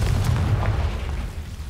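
A Confringo spell explodes in the video game Hogwarts Legacy, a loud, deep, rumbling boom that fills the short span and fades slowly, with no talking.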